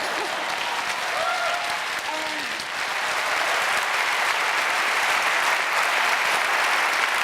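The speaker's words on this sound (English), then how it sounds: "Applause." A large audience at a university presidential inauguration applauds in a sustained, even roar of clapping that holds at steady loudness throughout, with no voice over it.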